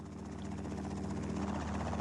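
An early 1944 Bell experimental helicopter flies indoors at the Armory in Buffalo, its rotor and engine giving a loud, steady, pulsing drone with no pauses.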